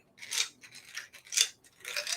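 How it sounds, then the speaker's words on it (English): A die tumbles down a dice tower at a tabletop game, giving a few quick bursts of bright plastic clattering and rattling at close range with short gaps between, and no voices. "Yeah, we roll the die up here."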